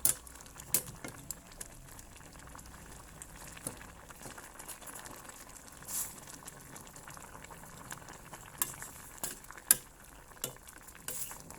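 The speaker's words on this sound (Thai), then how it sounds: "เดือดแล้วจ้า เดือดแล้ว" A pot of Isan-style grilled fish curry with sour bamboo shoots bubbles and simmers at a low, steady level, with occasional stirring clinks and scrapes, no voices.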